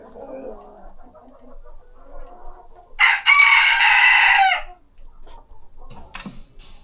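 A rooster crows once, loud and close, in a single drawn-out call lasting more than a second, with softer clucking and bird sounds before and after in a quiet coop.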